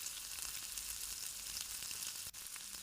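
Steady, dense sizzling of tomato and onion sautéing in a pan, continuous and close, with a brief dip near the end as if stirred.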